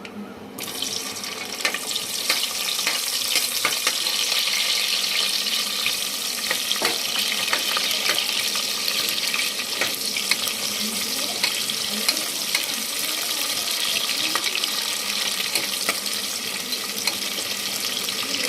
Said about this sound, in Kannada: ಈರುಳ್ಳಿ ಸ್ವಲ್ಪ ಕಲರ್ ಚೇಂಜ್ ಆಗಲಿ ಕಲರ್ ಚೇಂಜ್ ಮಾಡೋವರೆಗೂ ಸ್ವಲ್ಪ ಫ್ರೈ ಮಾಡಿ